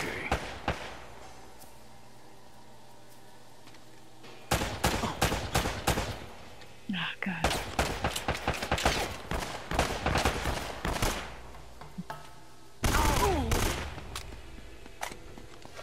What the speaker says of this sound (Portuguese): O cara só me deu tiro de pistola, velho.